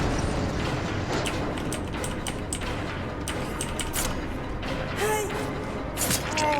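The exit gate mechanism in Dead by Daylight runs as a loud, continuous mechanical grinding, with rattling clanks and metallic creaks repeating throughout, and no clear talk over it.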